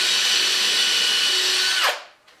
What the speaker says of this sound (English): Pre-drill that in.